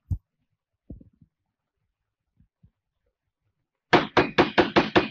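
Firm knocking on a door, a few scattered faint taps first and then a loud, rapid run of about six hard bangs close by, with no talking over them.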